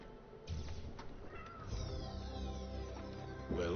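A pet cat meows a few times in short, close calls against a soft background hum, with one louder meow near the end.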